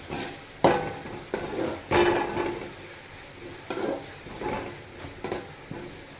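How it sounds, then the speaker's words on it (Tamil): Masala sautés in a pan for Chennai-style fish curry, with a soft sizzle under sharp, irregular spatula scrapes and knocks. "வதங்கட்டும் ஒரு அஞ்சு நிமிஷம் வதங்கட்டும்"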